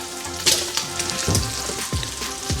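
Bacon and onions frying together in a pan, a soft steady sizzle with a few sharp clatters and scrapes of utensils, close and moderately loud with no talking.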